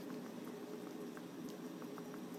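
Shrimp with tofu and mushrooms cook over medium heat, giving a soft, continuous bubbling simmer with faint scattered pops, quiet and close, no talking.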